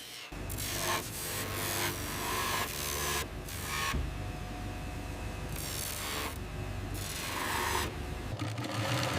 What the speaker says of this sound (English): The shearling panels are stitched with thick durable seams using heavy-duty sewing machine.